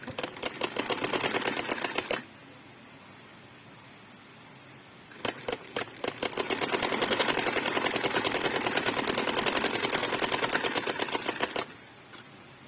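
Sewing machine stitching fabric for a belted shalwar, fast rhythmic needle chatter in two long bursts separated by a quiet pause, close and loud with no talking.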